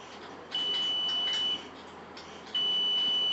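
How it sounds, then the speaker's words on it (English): The buzzer alarm on an automatic submersible water pump controller sounds in two long steady high-pitched beeps separated by a pause, fairly faint over a low hum. "you switch off the pumping machine and it starts to buzz."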